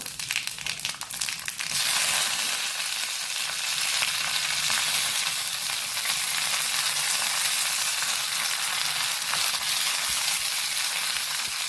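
Mustard seeds, split chilli, urad dal and curry leaves hit hot oil for a tempering, bursting into a loud, dense, steady sizzle that continues close and unbroken after a brief clatter at the start.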